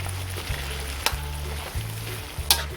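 Chayote sautéing with sardines in a pan, a steady close sizzle with occasional clicks and scrapes of stirring, over a low pulsing hum from the stove or fan.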